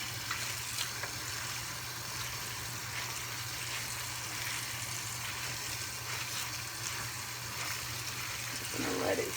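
Cold water runs from a kitchen tap into a sink where turkey wings are soaking, a steady soft rushing stream that carries on throughout, with a brief lower splash near the end.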